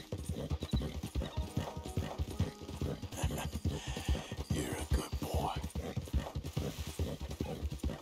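Horse hooves clip-clop at a steady trotting rhythm in the open-world game Red Dead Redemption 2, close and continuous, with game music and ambience underneath.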